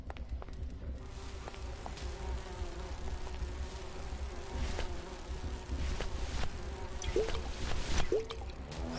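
Insect-like buzzing of bees in the Grim Fandango video game, a steady droning hum running throughout at moderate level with scattered faint clicks and drips in the background.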